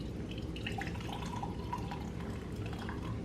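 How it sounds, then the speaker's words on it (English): Coffee pours from a coffee press into a cup, a faint, soft trickle and dribble of liquid running steadily throughout with a low background hum, no talking. "so that I can pour the coffee into the cup"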